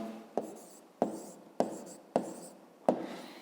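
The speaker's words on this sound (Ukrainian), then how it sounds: "Ну, Зараз, коли ми знайшли периметр, записуємо відповідь, пишемо відповідь." An answer is written by hand on paper, five distinct pen strokes scratching in an even rhythm, each starting with a sharp tap and fading quickly, quiet and close with no talking.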